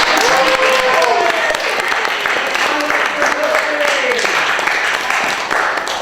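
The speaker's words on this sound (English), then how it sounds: "So let's give them a round of applause." Lively audience applause at a SUNY Purchase improv show, loud and continuous, with cheering voices and a few whoops rising over the clapping.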